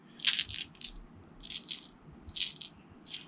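Small dice from the board game Tiny Epic Galaxies clatter and rattle in short bursts, several quick shakes and rolls with brief pauses, close and fairly quiet.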